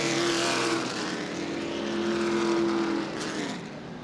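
Late model sportsman race cars at Anderson Speedway roll around the oval under a double-up signal before the 2015 CRA Redbud 75, engines droning steadily with a sustained tone that eases slightly near the end.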